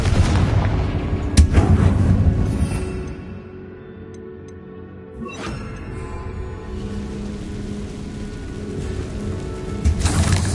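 A Confringo blasting spell explodes in a Harry Potter video game: a heavy booming blast with rumbling debris, a quieter lull, then another sharp impact and crack near the end.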